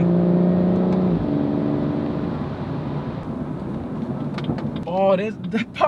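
BMW M140i with a loud engine drone under acceleration, followed by a few sharp exhaust pops and crackles near the end, heard from inside the car.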